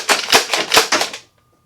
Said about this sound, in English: let's go ahead and shoot off some slam fire,